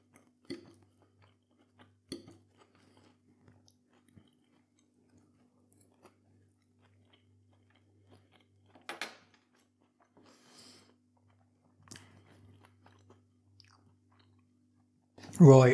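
Someone eats fries alongside a vegetarian burger patty, with intermittent close-up chewing and crunching in short bursts separated by quiet pauses, plus a brief louder sound at the end.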